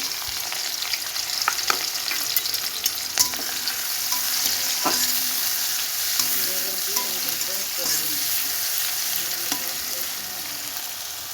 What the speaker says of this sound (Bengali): ছোলা ভুনা করার জন্য তাই আমি কড়াইতে দিয়ে দিলাম কিছুটা পেঁয়াজ